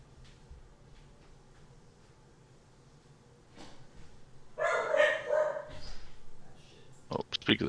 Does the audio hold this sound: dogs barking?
yes